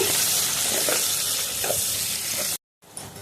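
Garlic, onions and green chillies fry and sizzle in a pan with steady broadband crackle and occasional stirring scrapes, loud and close, cutting off abruptly near the end before a quieter sizzle resumes.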